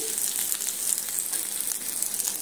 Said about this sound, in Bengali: আলুগুলো দিয়ে আবারও আদা রসুন পেঁয়াজ একসঙ্গে এইভাবে মিনিট 3 সময় নিয়ে এইভাবে আমি ভেজে নিচ্ছি